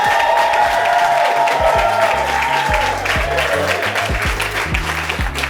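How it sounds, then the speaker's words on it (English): A crowd applauds steadily, with dense clapping and scattered cheers over a thumping low beat, loud and sustained throughout. "Clap it up for him."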